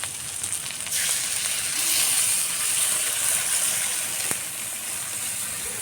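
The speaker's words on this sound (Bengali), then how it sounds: "এখন আমি এর মধ্যে দিয়ে দেবো সামান্য কিছু জল" Water is poured into a hot pan of egg curry, setting off a sudden loud hissing sizzle that swells, stays steady and bright, then eases slightly as it settles, with one brief clink partway through.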